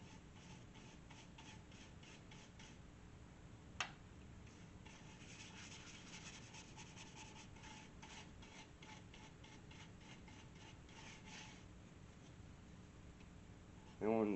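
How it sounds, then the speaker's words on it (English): Zinsser sanding sealer is rubbed onto a spalted maple bowl, a steady soft scrubbing rasp in rapid repeated strokes that continues almost without pause, with a brief voice at the very end. "put some of this cheap Zinsser sanding sealer on here."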